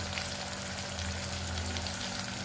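Masala paste frying in a pan, a dense, even sizzle and crackle that holds steady throughout, close and fairly loud with no voices.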